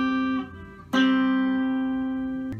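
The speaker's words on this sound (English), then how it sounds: "a major fifth sounds like this" Two sustained synthesized tones heard one after another as a musical interval: a first note fades, then a brighter second note enters and rings steadily with slow decay, clean and alone.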